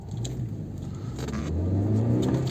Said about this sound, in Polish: Pełny gaz, nic nie ślizga.